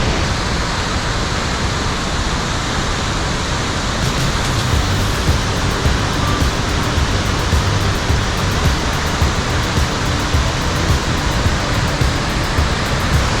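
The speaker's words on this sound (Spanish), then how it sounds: "hemos llegado a la cascada Pelo de Novia." The Pelo de Novia waterfall at El Chiflón in Chiapas, Mexico roars as a loud, constant, broadband rush of falling water, close and unbroken, with no voices over it.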